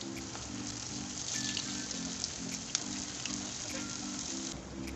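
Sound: potato kebabs frying in a pan

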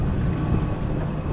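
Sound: wind

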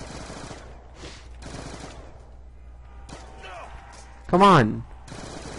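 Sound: MP5 submachine gun firing in video game Black Ops 2 zombies Die Rise

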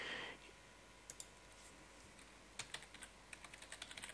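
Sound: typing on a computer keyboard

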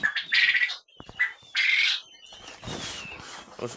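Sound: quails calling loudly in their coop

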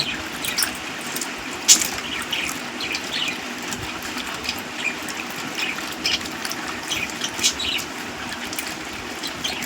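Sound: washing mangoes by hand in water

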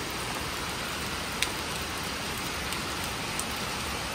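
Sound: heavy rain falling

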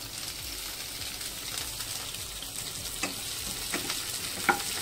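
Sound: green chillies and garlic frying for ginger curry

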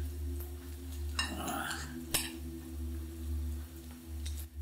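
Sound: stirring cucumber yogurt salad in a bowl

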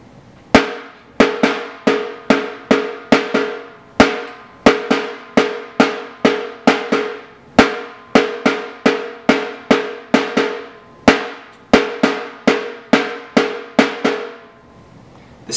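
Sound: caixa snare drum playing Rio samba basic pattern

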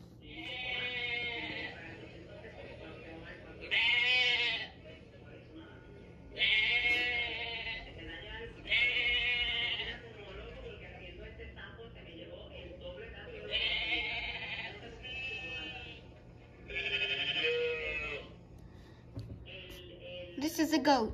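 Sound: sheep bleating

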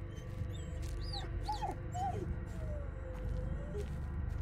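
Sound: dog whimpering in Blair Witch video game

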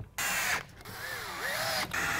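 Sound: screw gun driving connectors into wooden planter box

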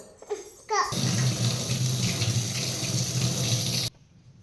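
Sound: tap water washing food

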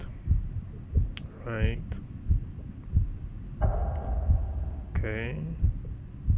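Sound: heartbeat sound effect in indie horror video game

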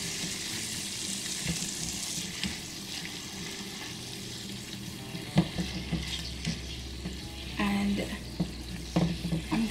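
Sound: stirring sweet chili sauce mixture

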